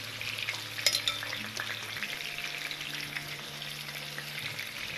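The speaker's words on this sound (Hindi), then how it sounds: "हम इसको मीडियम हीट पे फ्राई कर रहे हैं ताकि ये मैरिनेशन जो है इसके ऊपर अच्छे तरीके से कोट हो जाए।" Marinated chicken frying in about three tablespoons of oil over medium heat gives off a busy, continuous sizzle, with a brief clatter of stirring early on.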